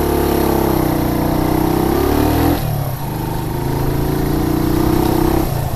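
Motorcycle engine revved using throttle and clutch, loud and close, rising to a high rev, dropping sharply, then climbing again before easing off near the end.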